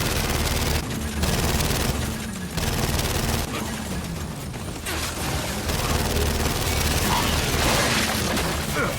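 Sustained turret gunfire in the video game Gears of War 5 roars almost continuously, dense and loud with booming impacts, while characters shout over the battle.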